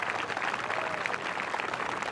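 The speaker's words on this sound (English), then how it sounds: "give them a big round of applause." Audience clapping after a mock crash demonstration, a short, steady wash of applause at moderate volume with no voices standing out.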